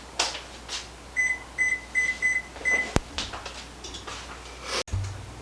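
Microwave oven timer being set, a run of five short, clear electronic beeps in a steady rhythm, then a single click and a soft thump, with a low appliance hum underneath throughout.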